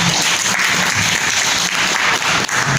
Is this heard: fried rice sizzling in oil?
no